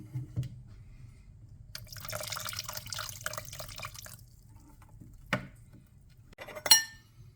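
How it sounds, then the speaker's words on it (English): Fish sauce pours into a kimchi mixture of rice porridge, trickling in a short, quiet liquid stream with a few drips and light clinks around it. "Now you can add the fish sauce."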